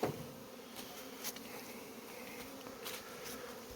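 Dense, steady buzzing of a honeybee swarm on a mass cleansing flight in mid-February, a continuous droning hum with occasional louder passes of individual bees close by.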